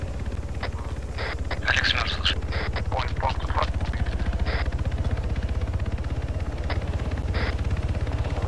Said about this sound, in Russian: Это вертолет, блин, зараза.